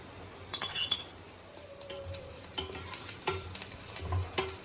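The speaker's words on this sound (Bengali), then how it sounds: "পেঁয়াজ একটু লাল লাল করে ভেজে নেওয়ার পর দিয়ে দেব আমি থেতো করা আদা আর কাঁচা লঙ্কা" Onion frying in a pan for aloo paratha filling as crushed ginger and green chilli are added, with soft sizzling, stirring scrapes and occasional clinks of a utensil, no talk.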